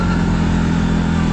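A Yamaha Grizzly ATV climbs in two-wheel drive through heavy powder snow, its engine droning loud and close in a steady, sustained roar for the whole brief moment.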